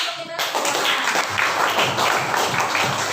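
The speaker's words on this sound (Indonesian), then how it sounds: "Tepuk tangan untuk kita semua." A classroom of primary school children clapping together, a dense burst of close applause that starts abruptly and carries on steadily, with some voices mixed in.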